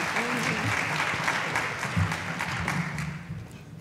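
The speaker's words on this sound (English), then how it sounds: "Please give them a warm round of applause." A warm burst of audience applause welcoming thriller and suspense authors to the stage at a book event, full clapping that holds steady before thinning toward the end, with faint voices mixed in.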